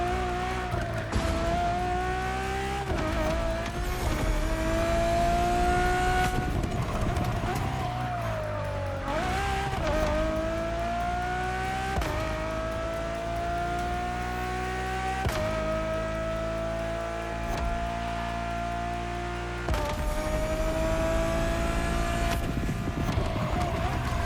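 Ferrari F50 engine in The Crew Motor Fest, loud and continuous as it revs up through the gears with repeated rising pitch sweeps and short shift breaks.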